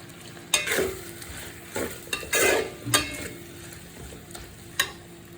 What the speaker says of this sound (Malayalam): ശർക്കരപ്പാനിയിൽ കിടന്ന് വരട്ടി നല്ലപോലെ വറവണം